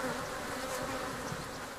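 A steady, dense buzzing of many African bees, continuous and fairly close, with no voices over it.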